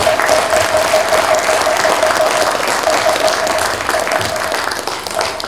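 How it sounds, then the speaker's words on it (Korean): Sustained applause from a ceremony audience, dense clapping filling the hall, steady and loud for several seconds with a faint repeating tone beneath. "큰 박수 한번 보내주시면 대단합니다"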